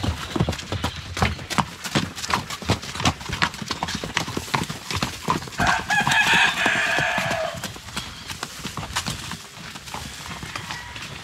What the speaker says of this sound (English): Got the loud roosters just like Southeast Asia as well.